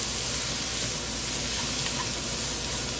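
Onions and garlic sauteing in a hot pan give a steady, close sizzling hiss that holds evenly throughout with no pauses.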